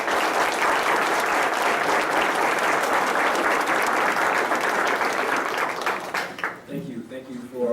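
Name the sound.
audience applause welcoming graduation speaker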